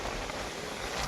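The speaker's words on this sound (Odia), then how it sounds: "ଏଇଭଳିଆ ଯୋଉ ପବନ ବର୍ଷା ହେଲା ଦେଖିପାରୁଥିବେ କୋଉ ଭଳିଆ ପବନ ହଉଛି" Strong stormy wind with rain during a night in a mango orchard roars steadily, a dense, rushing buffet of air buffeting the microphone, faint overall and brief, with no voices.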